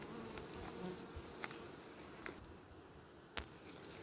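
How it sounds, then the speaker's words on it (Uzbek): Wasps buzzing around flowering plants in a field, a faint, close hum with insects darting past the microphone in brief louder swells. "Bitta mana qovoqarlar chiqqan."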